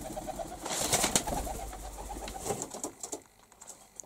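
Pigeons in a nest box give a few soft coos and rustles, close by, with faint background noise and no talking.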